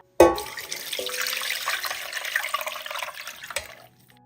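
Boiled mint water strained and poured through a sieve, starting with a sharp clink, then a steady, fairly close trickling stream that ends with another knock and tails off into quiet.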